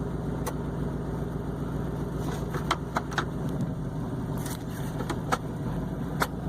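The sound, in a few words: 5.3L truck engine running, revving toward rev limiter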